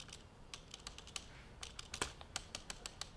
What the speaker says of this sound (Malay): apabila saya ketuk bahagian tepi spacebar tu, dia akan keluarkan bunyi kerana dia tak stable